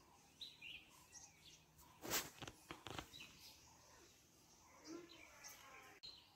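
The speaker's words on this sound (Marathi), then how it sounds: "पक्ष्यांचा आवाज किती येतोय" Birds call faintly around a quiet Konkan village in the morning, with scattered chirps amid soft outdoor ambience and a brief louder rustle or step.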